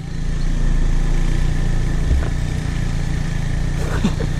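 A motorcycle engine runs with a continuous low drone, close and fairly loud, and a few faint knocks over it.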